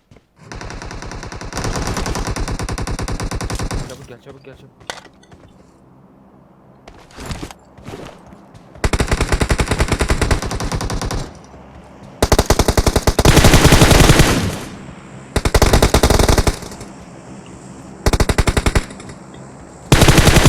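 Automatic gunfire in the PUBG Mobile shooter game: loud repeated machine-gun bursts, several long volleys separated by short pauses, with single shots and quieter stretches between.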